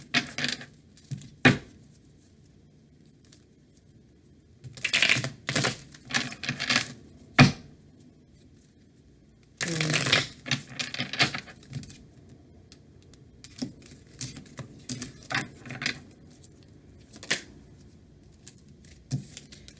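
Tarot cards being shuffled by hand, heard as close, crisp bursts of riffling and flicking. Several short clusters and a couple of longer stretches are broken by quiet gaps, with sharp single taps between them.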